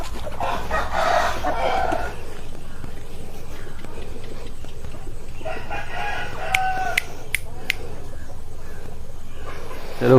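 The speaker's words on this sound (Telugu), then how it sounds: "తెలుగు క్రాస్ పెట్ట" Telugu cross-breed hens on a farm, penned up ahead of rain, cluck and call steadily across the clip, with a few sharp louder cackles near the end and no talk over them.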